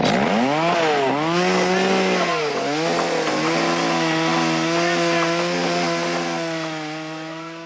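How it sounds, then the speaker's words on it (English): A chainsaw from a film scene runs loud and steady, its engine pitch swooping up and down early before settling into a sustained drone that fades slightly at the end. "Speaking of supplies from the outside, where did Allie get the chainsaw?"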